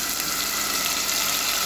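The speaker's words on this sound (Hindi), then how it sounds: "अब मैं इसमें ऐड करूँगी थोड़ा सा पानी" Water poured into a cooking pan holding onions and chopped tomatoes, a steady broadband splashing rush that runs unbroken and fairly loud from start to finish with no talk.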